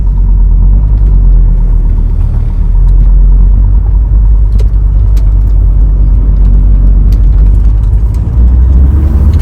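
A 1998 VW Murvi campervan pulls away in first gear, its engine giving a loud, close, low rumble with droning road noise from inside the cab and a slight rise as it accelerates.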